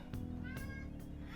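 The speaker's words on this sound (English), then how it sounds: "That's my cat, by the way." A domestic cat meows a few times, short rising cries fairly near but quiet, over a faint background hum.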